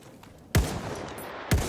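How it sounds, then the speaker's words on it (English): Two sharp, heavy gunshot bursts about a second apart in the Battlefield video game, close and loud against a low battlefield ambience. "There, enemy machine gun."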